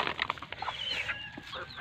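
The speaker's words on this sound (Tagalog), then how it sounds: "So yan ang susunod sa pinakauna na lalaki na manok." Native chickens and a rooster on a small farm, near clucks and short calls scattered across the moment, fairly quiet with light background noise.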